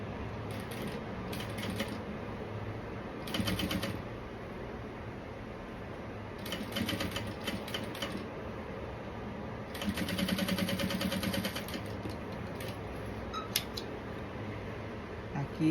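A sewing machine runs in several short bursts, stitching along the edge of bias binding, with stretches of quieter handling between runs.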